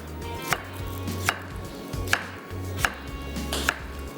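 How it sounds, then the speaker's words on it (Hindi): A knife slices through tomatoes and onions on a cutting board for mayo chip sandwiches, with five sharp chops landing about every 0.8 seconds over a low steady hum, close and clear with no talking. "यहाँ पे टमाटर के भी स्लाइस कर लेते हैं और जनाब प्याज के भी स्लाइस कर लेते हैं"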